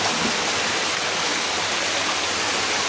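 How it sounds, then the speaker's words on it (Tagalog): Steady, full-bodied roar of a waterfall at Sagabe Eco Camp in Indang, Cavite, close and loud, a continuous broadband rush of falling water with no pauses and no voices. "Ay dadaan sa ilalim ng falls"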